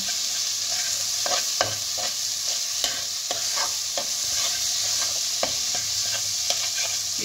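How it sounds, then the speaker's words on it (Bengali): Ground green pea paste frying with ginger in a pan for koraishutir kochuri, a continuous sizzle under repeated close scraping stirs of a spatula, with no voices. "এবার এটাকে ভালোভাবে এর সঙ্গে মেশাতে থাকবো আর ভালো করে ভাজতে থাকবো।"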